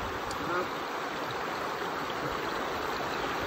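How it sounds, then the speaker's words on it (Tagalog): Steady broadband rush of stream water flowing at a peaceful campsite, continuous and fairly close, with no breaks or other sounds across the stretch. "Ano ba maririnig, pre? Agos ng tubig."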